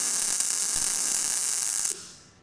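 MIG welder laying a bead on aluminum with the wire speed turned up and the voltage lowered, a steady loud crackling hiss that cuts off near the end, leaving a fading hum.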